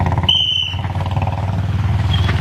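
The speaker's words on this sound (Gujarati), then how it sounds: "એક મોટરસાયકલ આવે ઊભું રાખો" A motorcycle approaches with a close, throbbing engine rumble that pulses steadily, briefly overlaid by a short high whine near the start; no talk is heard.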